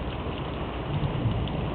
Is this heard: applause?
no